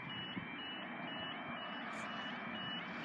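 A level crossing alarm at Burton Agnes in the East Riding of Yorkshire sounds as a steady, continuous warning tone throughout, loud and unbroken, with a faint higher chirp near the end and no talking.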